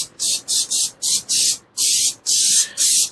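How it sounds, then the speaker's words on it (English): White spray paint hisses from an aerosol can aimed from a distance, in about eight loud bursts of steady hiss, some short and some longer, with brief pauses between. "I'm just going to spray from a distance just to get our stars."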